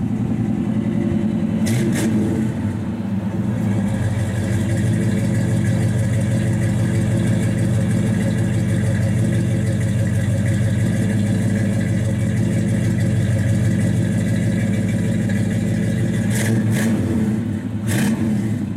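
A 1966 Chevrolet Chevelle SS 396 V8 with a 4-speed idles through dual exhausts exiting in the stock location, a loud, steady, lumpy rumble heard from behind the car with brief blips near the start and end.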